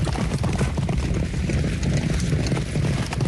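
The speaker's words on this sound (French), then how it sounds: "Ce sont des sabots de chevaux qui foulent le sol." Racehorse hooves clip-clopping on the ground at Deauville, a loud, dense and steady run of hoof strikes close by with no pauses.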